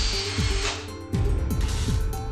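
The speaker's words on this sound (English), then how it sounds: "pre-drill each hole to prevent the 3/4 inch wood from splitting." A power drill whirs in short bursts, pre-drilling pilot holes in 3/4 inch wood, its pitch shifting as it bites in, close and fairly loud.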